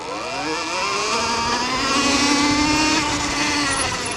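A 2020 Electric Motion Escape electric motorcycle accelerates, giving a steady rising electric whine with harmonic tones that climb and then level off, close and loud over road and wind noise.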